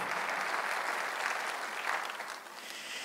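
A church congregation applauds at a Korean sermon, a dense, steady round of clapping from many hands that fills the whole stretch and eases slightly toward the end.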